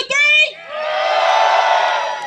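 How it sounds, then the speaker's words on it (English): A big, rowdy crowd cheer erupts at a lumberjack show, opening with a sharp whoop before a sustained roar of many voices that holds steady and loud for about two seconds. "I want to hear a big, rowdy Blue Mountain cheer"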